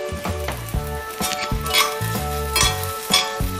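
Asafoetida tempering sizzles steadily in a cast iron pan while sambar is cooked, a continuous close frying hiss with faint utensil stirs, layered over tonal background music.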